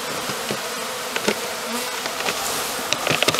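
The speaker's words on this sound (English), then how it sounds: "which is about 300 individual bees. I'll put them in my mason jar." A dense, steady insect buzz from about 300 honeybees in a mason jar, close by and continuous, with a few small knocks and taps rising above the drone near the end.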